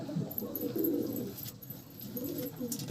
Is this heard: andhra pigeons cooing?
yes